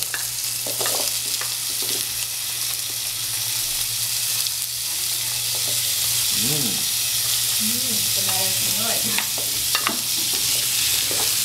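Squash (kalabasa) sizzles steadily as it is stirred and sautéed in a hot pan, with repeated scraping strokes over the constant frying hiss and a brief voice partway through.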